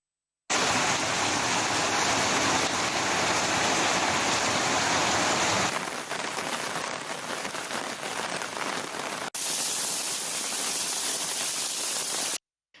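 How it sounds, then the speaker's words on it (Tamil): Heavy rain pours down in Nagapattinam district as a loud, steady, dense roar that continues for several seconds, with no voices over it. "நாகை மாவட்டத்திலும் இன்று காலை முதலே தொடர்ந்து கனமழை பெய்து வருகிறது"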